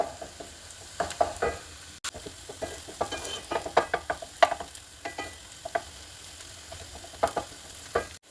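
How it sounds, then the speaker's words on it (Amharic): Onion and crushed garlic frying together in a pan, a soft sizzle punctuated by frequent sharp spatula clicks and stirring knocks in an uneven rhythm, nearby and moderately quiet with no voices. "ትንሽ ነጭ ሽንኩርት የቀጠቀጥነውን እንጨምርና አንድ ላይ በደንብ እናቁላለዋለን።"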